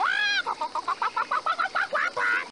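A chicken in the Reksio i Skarb Piratów video game gives one drawn-out call, then a quick, steady run of about a dozen close, clear clucks, with no voices.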